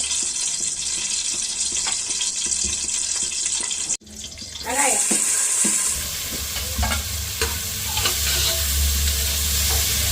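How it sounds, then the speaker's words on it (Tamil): Onions hit hot oil with cinnamon and cloves, bursting into a loud crackling sizzle after a brief pause, then settling into steady frying with stirring clatter. "வெங்காயம் போட்டுட்டேன். வெங்காயம் கொஞ்சம் வசங்கட்டும்."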